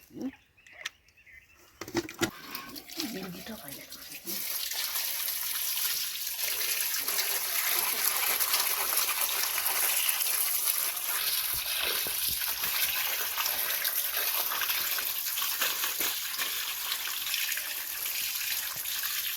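Water is poured and runs steadily into a bucket of live fish during a water change, starting after a few quiet handling knocks and continuing as a close, constant gushing stream.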